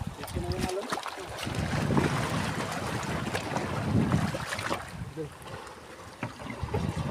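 Strong wind roars across the sea during a typhoon, with waves surging and crashing near the rocks in a steady, noisy wash of gusts and surf, while a voice briefly speaks over it.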